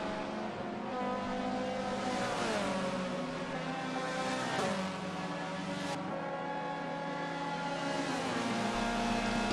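Touring cars racing on the Watkins Glen short circuit, with a BMW and a Chevrolet among them: a continuous, loud, whining engine drone that rises and falls in pitch as the cars accelerate and shift, with no voices.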